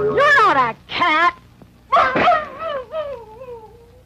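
A voice imitates a cat's meow on a children's educational TV show, giving several loud, drawn-out wavering mews and wails in a row with short pauses between them.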